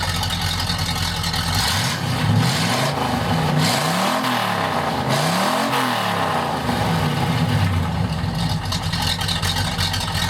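A 1951 Chevrolet 3100 pickup with a straight-piped V8 revs loudly up and down twice in close succession, a deep throaty roar rising and falling over a steady idle.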